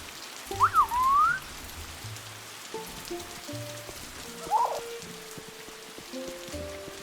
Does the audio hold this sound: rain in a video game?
yes